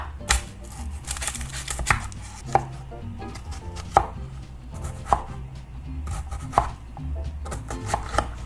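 A knife slices carrots on the bias into half-inch pieces on a cutting board: a steady run of sharp, close chops, roughly one or two a second, with no talking.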